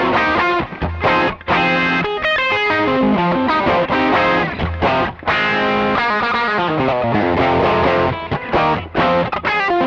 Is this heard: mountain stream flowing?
no